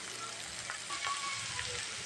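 Ginger and garlic frying with onions in a pan for a duck egg korma, a steady close sizzle with faint scraping stirs throughout.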